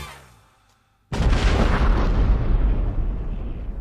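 A bombshell explodes with a sudden, loud, deep boom after a near-silent lull, then a long, dense roaring rumble that holds for several seconds.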